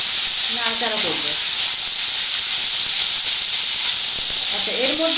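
Mixed vegetables sizzle steadily in a hot pan while being stirred, a constant bright hiss with brief voice-like sounds near the start and end.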